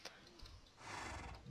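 A horse in the video game Minecraft gives a short, faint whinny after a couple of soft thuds.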